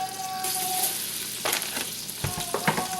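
About four tablespoons of butter melting in a pan for garlic roasted potato soup, a close steady sizzle and crackle with a few sharper pops and stirring scrapes.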